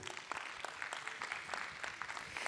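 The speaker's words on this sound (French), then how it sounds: "on peut applaudir ce premier projet" Dense, steady applause from a crowd, many hands clapping together without pause, moderately distant and not very loud.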